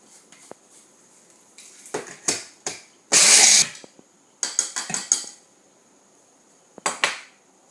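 A few short, sharp grinding bursts from a small herb grinder chopping dried herbs, with one longer whirring pulse in the middle and clicks and knocks between, close and fairly loud with no talking.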